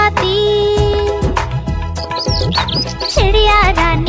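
Bright chirps and tweets like a sparrow sing over a lively music backing in a Hindi nursery rhyme, loud and close, scattered in short rhythmic bursts between musical notes.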